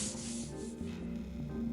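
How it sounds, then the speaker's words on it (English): Sandpaper wrapped around a hand rubs along a wooden edge to bevel it, part of building a DIY Eurorack studio case; short steady scratchy strokes heard close up and alone. "wrapped a piece of sandpaper and went like this, and then beveled the edge all the way around"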